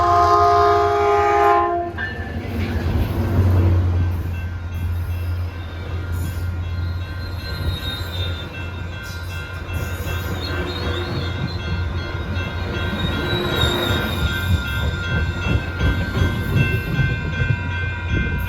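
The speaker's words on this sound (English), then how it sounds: "we have a San Jose bound train coming in." A San Jose-bound Caltrain commuter train rumbles steadily close by, its horn sounding early on, with wheel noise and rattling continuing as it pulls in.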